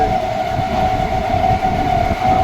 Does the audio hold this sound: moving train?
yes